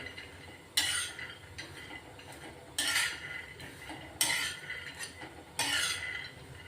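A utensil scrapes and clinks against a pan as peanuts are stirred while dry-roasting over a low flame for a coarse powder. Four louder scrapes stand out in a steady rhythm over soft, quieter rattling.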